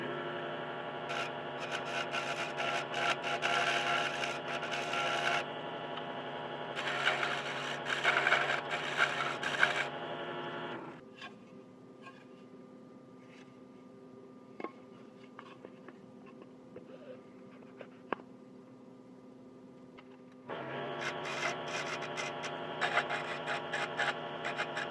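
A wooden finger joint is shaved down by hand for a tight fit in box making, with steady rasping strokes in two long bursts around a quieter stretch of faint scrapes and taps.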